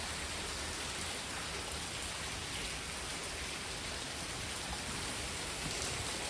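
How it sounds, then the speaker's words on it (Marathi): Heavy rain falling in a steady, dense hiss that stays even throughout, with no voices. "खूपच पाऊस पडायला लागलाय खरं."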